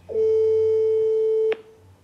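A telephone call being placed: one steady electronic ringing tone holds for over a second, then cuts off sharply. Loud and close, with no voices.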